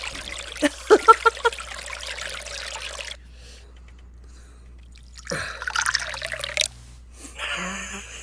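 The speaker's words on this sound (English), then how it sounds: "How many water noises do you have, Gary?" Water noises trickle and drip in bursts during a livestreamed podcast, with a cluster of quick drips near the start and a longer splashy pour later, all fairly close and loud, separated by near silence.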